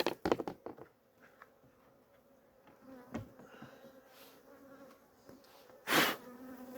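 Faint, steady buzzing of honeybees close by during a honey harvest, punctuated by a few sharp taps and knocks on the combs, with one louder brushing burst near the end.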